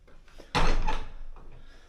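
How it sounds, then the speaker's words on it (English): A door swings shut with one solid thud at a small kitchenette, followed by a brief low rumble and faint knocks fading into quiet room tone. "If I shut that door, keep the birds out."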